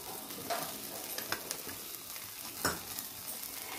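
Whole fish grilling in oil on a pan over medium heat, a steady soft sizzle with a few faint scrapes and clicks, no voices.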